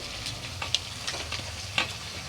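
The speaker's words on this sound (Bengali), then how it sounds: "এখন আমি কষিয়ে নেব এর মধ্যে আমি লঙ্কার গুঁড়ো হলুদ গুঁড়ো নুন" Mutton being sautéed in a pan with chilli powder, turmeric, salt, cumin and coriander powder, a steady close sizzle with a few sharp spatula scrapes and clinks.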